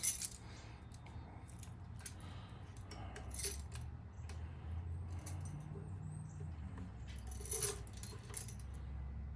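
Metal keys jangle and clink intermittently, quiet and close, while a duplicated key is sorted out from a set at a key duplicating machine, with low background hum and a few sharper rattles.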